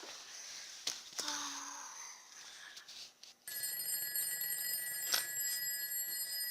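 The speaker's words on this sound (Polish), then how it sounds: "czemu ten budzik tak dzwoni?" An alarm clock starts ringing partway through, a shrill continuous electronic ring after a few soft rustles and taps.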